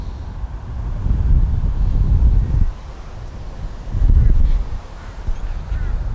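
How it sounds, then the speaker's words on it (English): Strong wind buffets an outdoor microphone during a goose hunt, a broad low rumble that surges loudly twice and eases between gusts, with no talking. "Wind is strong, guys."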